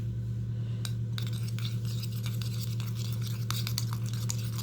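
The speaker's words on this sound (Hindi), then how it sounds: "अब इसको अच्छे से मिक्स करना है।" Yogurt and mint powder are stirred together for a face mask, with soft, repeated scraping and light clinks of a spoon against a bowl over a steady low hum.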